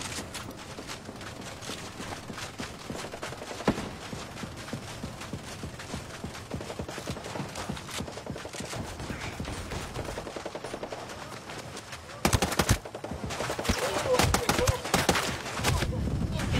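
Rapid bursts of machine gun fire in a sniper video game, crackling steadily throughout and turning louder and denser near the end.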